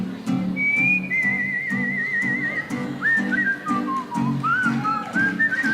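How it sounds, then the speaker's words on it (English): A person whistles a lilting tune, clear sliding notes over a steady rhythmic musical accompaniment, close and prominent throughout. "Whistle for me"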